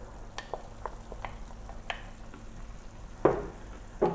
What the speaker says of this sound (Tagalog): So, lagay na natin yung ating white pumpkins or upo.